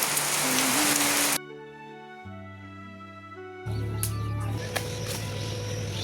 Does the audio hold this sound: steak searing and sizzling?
no